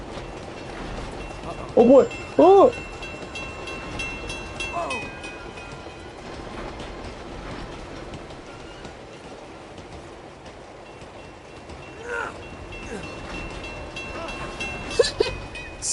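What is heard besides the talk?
train rushing past in video game Uncharted 2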